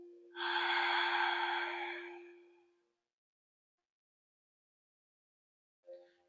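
One long, deep exhale through the mouth, breathy and close for about two seconds, then silence and the start of a short breath.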